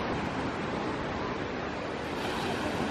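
Waves and surf wash steadily ashore at Clearwater Beach, Florida, a loud, continuous broadband roar mixed with wind buffeting the microphone, with no voices over it.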